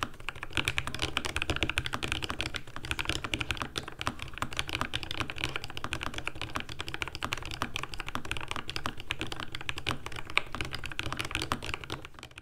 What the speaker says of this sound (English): and this is how the keyboard sounds.